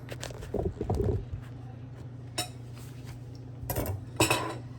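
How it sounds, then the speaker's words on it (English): A knife slices through a home-grown, freshly ripened tomato on a cutting board, giving a few soft cuts followed by sharper taps and clicks of the blade against the board, close and moderately loud. "Gonna go ahead and slice my tomato."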